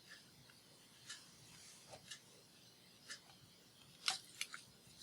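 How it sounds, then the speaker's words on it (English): Scissors snip craft material in a quiet room, a few faint, crisp cuts scattered at irregular intervals, with a brief cluster of sharper clicks near the end. "I'm going to cut it just a smidge longer, just to make our lives easier."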